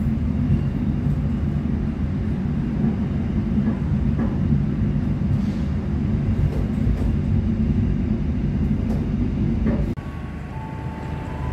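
The Argo Cheribon passenger train runs with a continuous low rumble and rattle from the carriage, a few faint knocks along the way, and the noise eases slightly near the end. Nobody speaks.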